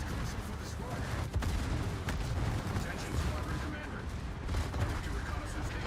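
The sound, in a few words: World of Warships secondary guns firing, video game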